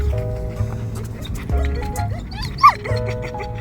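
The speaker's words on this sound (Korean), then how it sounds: "지금 낑낑거리죠." An over-excited border collie whines in thin, high-pitched squeaks, with one sharper yelp partway through, over low background noise and rustling.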